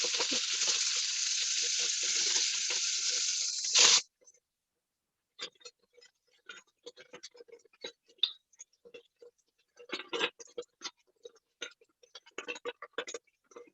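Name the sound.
diced yellow onion sizzling in hot olive oil in Dutch oven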